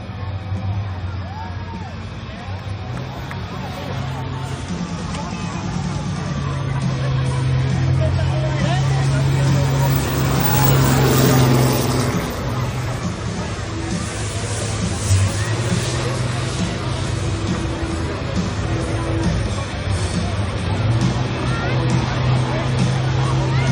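Buses in the Chisago Lakes bus race roar round the Cedar Lake Speedway track in a steady, droning wash of engine noise, with crowd babble and an announcer talking over it throughout.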